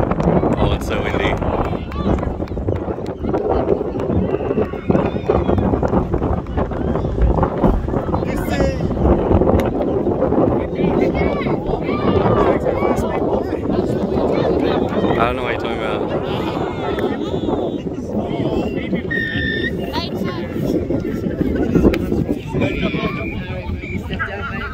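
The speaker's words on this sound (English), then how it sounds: "Oh, it's so windy." Strong wind blowing outdoors, a continuous gusty rumble buffeting the microphone throughout, with several people talking and calling out over it.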